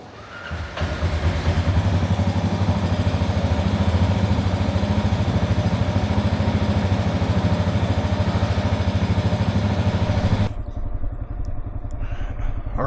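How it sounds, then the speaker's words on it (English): Motorcycle riding through the streets of Morelia, Mexico, its engine a loud, steady mid-range drone with dense rhythmic clatter, then dropping abruptly to a quieter running note near the end. "I'm on the bike, ready to roll, or I guess I'm already rolling"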